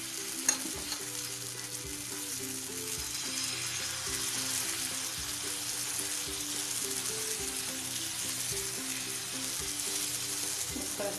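Mushroom pancake batter sizzles and crackles in a hot oiled pan, a steady frying hiss that carries on alone for the whole stretch, with faint scraping or stirring knocks repeating underneath.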